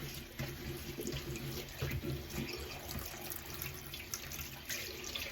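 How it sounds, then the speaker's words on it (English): A kitchen tap running at low flow into a sink to soak a paint-laden brush, producing a continuous close splashing hiss with small bubbling fluctuations. "the water is not actually hot yet, and that's because I haven't got the tap on too much"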